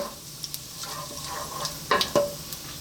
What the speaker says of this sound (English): Going to start off by dropping in some cumin seeds and some dried red chili. Just let them do their thing just for a few seconds in that hot oil.